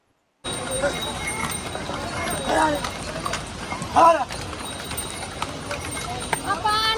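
Horse hooves clip-clop steadily on a hard mountain path close by on the Kedarnath pilgrimage route, under constant background noise and scattered voices.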